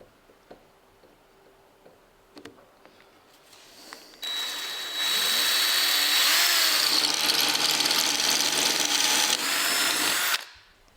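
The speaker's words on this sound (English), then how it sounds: "Now we've drilled out the hole," A power drill bores out a bolt hole on an AEC Routemaster London bus during restoration, a loud, close, sustained whine that runs for about six seconds after a few light clicks and taps, then stops abruptly.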